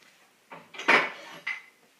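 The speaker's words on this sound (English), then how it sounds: "Tip for getting cups out of the cupboard that you can't reach." Cups knocked together and clinking as they are pulled from a kitchen cupboard with a wooden spoon hooked in their handles: a few short, close rattling clatters with brief pauses between them.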